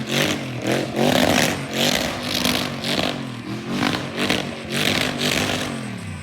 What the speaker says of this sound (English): I was doing some donuts in the grass.